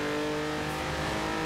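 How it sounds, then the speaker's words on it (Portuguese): A BMW i8 hybrid accelerating in the Forza Horizon 4 racing game gives a loud, steady engine drone with a strong tonal hum, running unbroken with no voices. "Olha o motor hybrid em ação."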